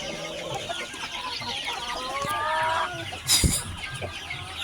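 Several chickens cluck close by in a busy overlapping chorus, with a brief louder clatter near the end.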